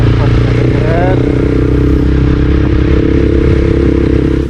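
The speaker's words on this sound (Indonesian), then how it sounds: "motor udah mulai berbet nih, atau bisa dibilang lost power atau lost kompresi ya" A neglected motorcycle engine sputters while losing power and compression, a loud, close, uneven rumble with rattling clatter and a brief rising whine near the start.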